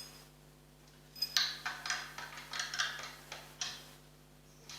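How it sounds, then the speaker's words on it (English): Ratcheting clicks from a wrench turning a nut, likely a truss rod adjustment, on a double neck guitar build, a series of close, crisp, evenly spaced ratchet strokes over low hum, with no talk. "So I'll just draw that nut off a bit."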